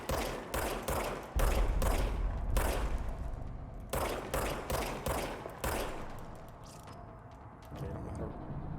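Rapid bursts of gunfire from a weapon in the video game Control, loud and close, coming in short repeated volleys with brief gaps, fading to quieter shots near the end.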